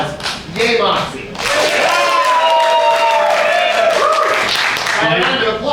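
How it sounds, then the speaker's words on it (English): Live comedy audience at a show responding to a call for applause, a brief burst of clapping and cheering with whoops and yells over several seconds, with voices around it. "By a round of applause, yay Moxie."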